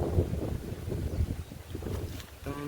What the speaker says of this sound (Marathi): वारा सुटलाय आता जबरदस्त